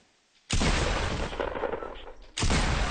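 Two loud pump shotgun blasts in Fortnite Battle Royale, close and punchy, the first booming and ringing out for nearly two seconds before the second shot cuts in.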